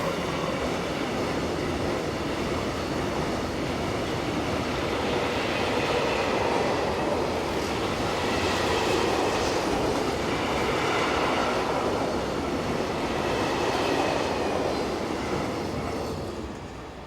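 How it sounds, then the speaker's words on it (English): Slovakian Railways locomotive 350018 hauling Prague–Budapest train EC 279 around a curve, a steady loud rumble of wheels and carriages with faint clickety-clack and squeal, passing continuously throughout with no voices. "Slovakian Railways 350018 rounds the curve powering train EC 279, the 1151 from Prague to Budapest"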